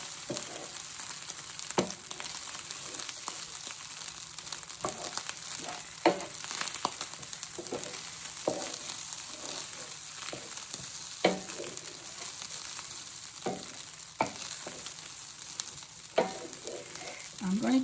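Cooked egg is stirred into fried rice in a hot pan, giving a steady sizzle with periodic scraping strokes of the spoon, close and clear.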